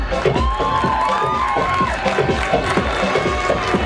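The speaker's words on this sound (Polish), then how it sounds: "Gorące brawa!" A student pageant audience at a university Juwenalia festival cheers and applauds loudly and continuously, a dense roar of shouts and whistles over clapping throughout.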